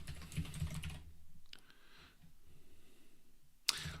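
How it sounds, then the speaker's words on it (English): Typing on a computer keyboard in a quiet room: a short burst of key clicks at the start, sparse taps in the middle, then one sharp louder keystroke near the end, all faint and close. "I'm having a hard time typing today."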